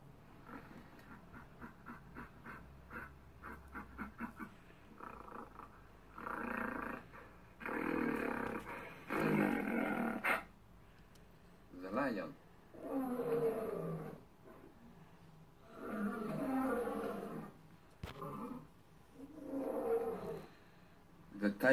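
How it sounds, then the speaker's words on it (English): A gorilla at a zoo gives a run of deep, rumbling roars and growls in repeated bursts, fairly close and loud, with short pauses between them. "The gorilla."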